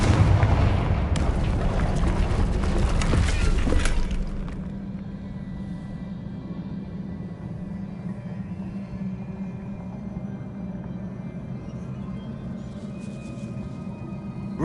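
Spell blasts from Bombarda and Confringo in Hogwarts Legacy, a loud cluster of booming impacts over the first few seconds, then a lower rumbling tail.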